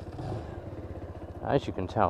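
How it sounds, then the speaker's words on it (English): A Lexmoto Michigan 125cc cruiser motorcycle engine runs with a low, steady rumble close by while someone talks over it. "purr of that engine, absolutely lovely"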